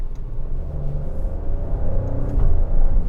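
Maserati Grecale Trofeo 2024 engine in Sport mode, a steady loud low rumble that swells slightly toward the end, with no talk over it.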